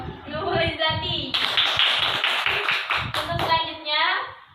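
A Grade 5 class in an online microteaching lesson claps for a pupil, a burst of quick, crisp hand claps lasting about two seconds in the middle, with a teacher's and children's voices talking before and after.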